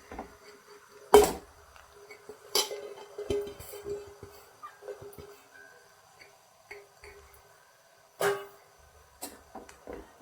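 Cooked rice being stirred and mixed in a pan for egg fried rice, soft scraping and sporadic clacking spatula knocks at irregular intervals, close and fairly quiet with no talk.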